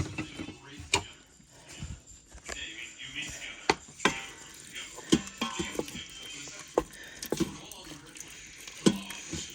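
Green beans being stirred as they heat in a pan, with irregular utensil clinks and scrapes against the pan over a light sizzle, close by, and a voice occasionally speaking underneath.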